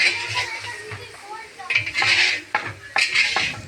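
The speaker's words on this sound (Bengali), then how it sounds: "এদিকে দিদি রান্না করছে এদিকে তো চচ্চড়ি হচ্ছে" Pots, pans and utensils clatter and scrape while chochchori cooks at a home feast, with sharp metallic clinks in quick uneven bursts close by and voices in the background.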